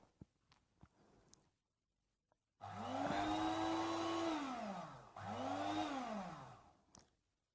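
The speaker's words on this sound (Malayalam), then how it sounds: "അതിന് വേണ്ടിയിട്ടാണ് നമ്മൾ മിക്സി യൂസ് ചെയ്യുന്നത്." Electric mixer grinder blending pudding mixture, two loud whirring runs that spin up, hold a steady motor whine, then wind down, separated by a short pause, with faint kitchen clatter before.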